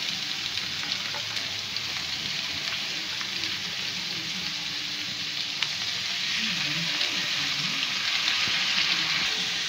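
Sliced onions, chillies and thinly cut carrot sizzle steadily in a pan for a carrot prawn stir-fry, a constant close frying hiss with soft stirring scrapes throughout.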